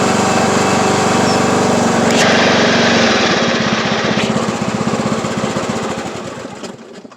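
A Craftsman YT3000 riding lawn tractor engine runs close by, a loud, steady rattling drone with rapid pulsing that fades gradually toward the end.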